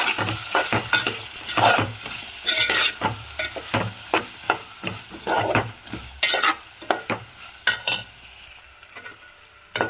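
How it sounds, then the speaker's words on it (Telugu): Coriander and cumin powder stirred into soya chunks frying in a pan, with rhythmic, close spoon scrapes and knocks over a light sizzle, irregular strokes fading toward the end. "మొత్తంగా కలుపుకుందాం"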